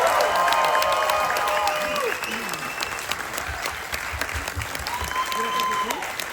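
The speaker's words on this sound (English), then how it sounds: "give a big round of applause for the incredible" A cruise ship audience on a Carnival Vista gives a big ovation for the cruise director, sustained loud applause with cheering and whoops over it, while voices and a rising, wavering tone run through the crowd noise.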